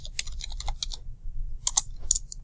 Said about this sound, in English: type in rounds and fillets